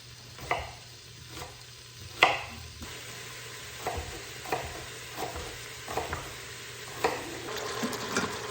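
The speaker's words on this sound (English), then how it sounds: "So I'm just gonna stir this bacon around and it'll cook" Bacon being stirred in an Instant Pot for baked beans: a steady low sizzle under a series of scraping, clacking spoon strokes against the pot at irregular intervals.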